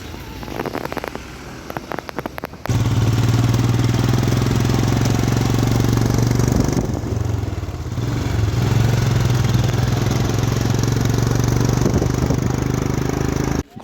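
A Royal Enfield Himalayan 450 motorcycle engine runs steadily and loudly on a Gangtok road, a deep continuous drone with a brief dip midway, after an opening few seconds of irregular clattering.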